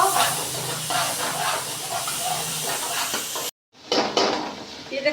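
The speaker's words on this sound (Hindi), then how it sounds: "अच्छी तरह मैंने प्याज और ये टमाटर को भून लिया।" Onions and tomatoes frying in a pan, a dense close hiss and sizzle with spoon scrapes, briefly cut to silence before the sizzling resumes.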